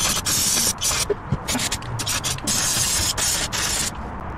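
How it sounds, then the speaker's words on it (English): Brake cleaner sprays in repeated hissing bursts onto an oil spill on the engine of a high-mileage Jeep during an oil change, loud and close with short pauses between sprays. "we'll get our handy dandy fancy light here and some brake cleaner and just go to town"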